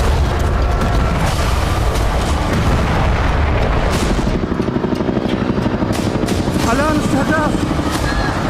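An Israeli military helicopter's steady rotor thud drones loudly throughout over Gaza, with occasional booms and bursts of bombing layered over the continuous engine noise.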